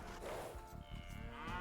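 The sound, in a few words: cows mooing in the video game Age of Empires II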